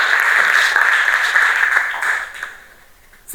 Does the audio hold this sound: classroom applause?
yes